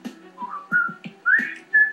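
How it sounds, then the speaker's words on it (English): Someone whistles a short tune up close, a few clear melodic notes with brief pauses, accompanied by soft thumping underneath. "Hey, slow down that whistle."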